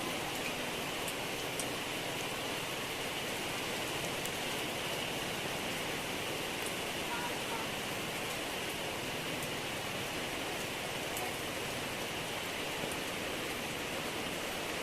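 Steady, even rain falling, a dense broadband hiss with faint scattered drops, constant throughout with no voices.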